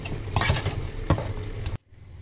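Pork with red chili powder and spices is stirred and mixed in a hot pan, a close sizzle with scraping strokes that stops abruptly near the end.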